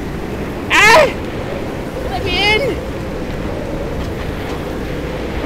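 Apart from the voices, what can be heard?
strong wind in Pacific Drive video game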